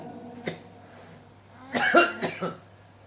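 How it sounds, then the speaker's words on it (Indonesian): During a radio broadcast, one short cough is followed by a burst of several throaty coughs in quick succession, close to the microphone over a low steady hum. "saya agak batuk dikit ya"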